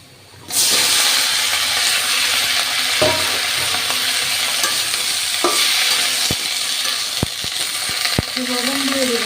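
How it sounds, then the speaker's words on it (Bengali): Flat beans hit a pan of hot fried onions with a sudden loud sizzle that settles into continuous frying, with stirring strokes and a few sharp clinks of a spatula on the pan, no voices. "এখন আমি ছিম দিয়ে দেব"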